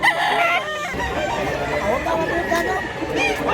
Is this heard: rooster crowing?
yes